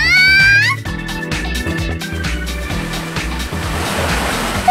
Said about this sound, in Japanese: 波が高くなった。